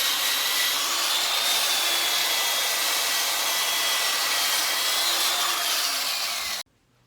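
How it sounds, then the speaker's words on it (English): Continuous abrasive rubbing hiss of hand sanding a wooden bowl on a lathe with the headstock locked, steady and close for several seconds before stopping abruptly. "Here's how I'm going to sand it"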